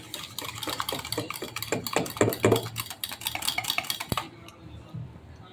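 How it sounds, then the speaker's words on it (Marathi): Curd is beaten briskly in a bowl, a rapid rhythmic clatter of utensil against the dish that stops abruptly near the end, leaving a quiet tail. "आपल्याला दही फेटून घ्यायचं"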